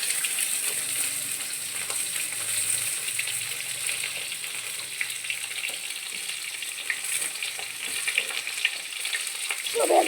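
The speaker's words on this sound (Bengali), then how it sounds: "সব কিছু ভালো করে কষে নেব।" Potatoes, beans and carrots sauté in a pan with a steady, close sizzle and soft scraping as the pieces are stirred, continuing evenly throughout without any talking.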